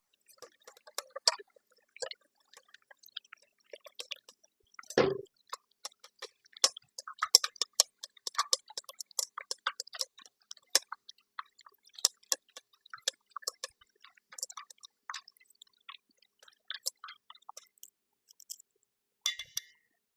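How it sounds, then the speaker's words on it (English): A fork or whisk beats three egg yolks and one whole egg together in a bowl for carbonara sauce, making a quick irregular run of soft wet ticks and clicks close by, with one heavier knock. "for the sauce, we're using 3 egg yolks and 1 whole egg. We're just going to whisk that together."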